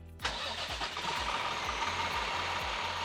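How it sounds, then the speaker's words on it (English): A bus engine started from the rear start button in the engine bay cranks with a brief whine, then catches into a steady, rhythmic idle with repeated low knocking pulses, loud and close, no talking. "So go ahead and push that button."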